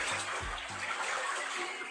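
Floodwater flowing like a river in front of a house, a continuous rushing wash with a few low thumps at the start, steady and moderately near.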